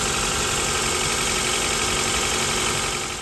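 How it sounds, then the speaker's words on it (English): Honda Accord 2.4L car engine running after a thermostat replacement, a steady close idle drone with constant mechanical hum throughout and no talk. "Start the car, right?"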